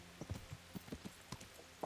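Horse hooves clop in the medieval RPG game Kingdom Come: Deliverance, a steady, irregular run of hoof strikes at moderate distance over a soft noisy background, with no one talking.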